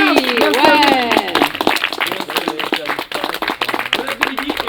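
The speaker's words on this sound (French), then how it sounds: "je demande un tonnerre, s'il vous plaît, un tonnerre d'applaudissements pour Rémi." An audience claps for Rémi at an event, a steady crackle of many hands running under a loud voice speaking over it the whole time.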